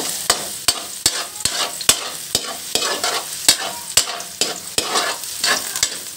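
White onion frying in a pan with liver steak, a steady sizzle broken by sharp, regular knocks of a spatula stirring against the pan, close and fairly loud.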